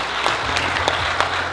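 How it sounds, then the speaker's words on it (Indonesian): An audience claps steadily at an evening business talk event, a dense, even round of applause with a few sharper claps standing out. "dan tepuk tangan untuk kita semua."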